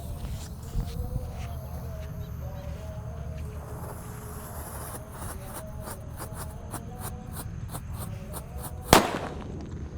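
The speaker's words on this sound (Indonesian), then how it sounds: "di sini ada disco happy flower laplaptor. Kita nyalakan." A disco happy flower firework fizzes and crackles for several seconds, with rapid popping bursts and a sharp bang near the end, heard from a short distance outdoors.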